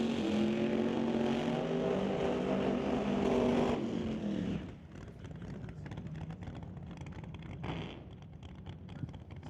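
At a drag race, a twin-turbo 1967 Mustang and a 1969 Camaro roar loudly and steadily for several seconds, then the engine noise drops to a lower rumble with a brief later surge.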